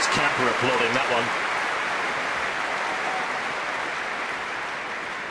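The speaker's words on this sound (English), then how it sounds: "Even Murray's camper applauding that one" Wimbledon crowd breaking into applause after a well-played volley in a 2009 fourth-round tennis match, a broad steady clatter of clapping that holds throughout, with a brief voice near the start.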